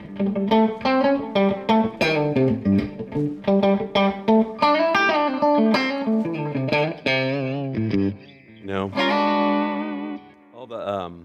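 An electric guitar with stock pickups plays glassy, effects-laden tones: a quick run of bright picked notes, then longer ringing chords with a shimmering, chorus-like sustain, loud and up front.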